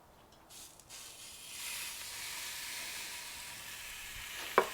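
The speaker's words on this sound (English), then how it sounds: "I'm going to go ahead and try to get a little sear on this." A tri tip searing on a Weber kettle grill fitted with a sear kit over lump charcoal at around 470 degrees produces a faint, steady hiss that swells after the first second and holds, capped by a short sharp knock near the end.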